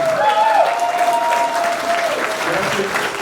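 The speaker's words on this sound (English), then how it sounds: "let's all stand and take a moment and applaud these gentlemen for all of the years of dedicated service to the community of Henry Horner." A banquet audience rises and applauds honorees at an awards banquet, with loud, dense, sustained clapping throughout and voices and cheers mixed in.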